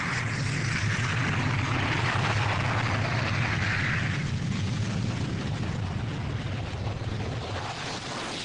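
A Kfir C-2 jet fighter aircraft of the Israeli Air Force flies with a steady, loud, broadband jet roar that swells and fades slightly, with no voices over it.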